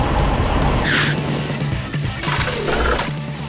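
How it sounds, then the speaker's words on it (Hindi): A big red animated fire engine pulls out of its station: a loud vehicle rush with a high tire squeal near the start and another swell of engine and road noise later, with no talk. "एक विशाल लाल दमकल गाड़ी अपनी वीरता दिखाते हुए स्टेशन से बाहर निकलती है"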